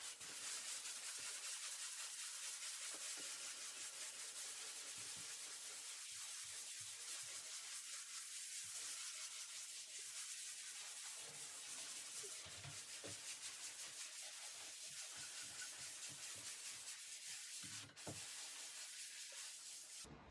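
Light sanding of dried drywall mud, a faint, steady hiss of paper against the wall with repeated soft strokes running for about twenty seconds, no voices.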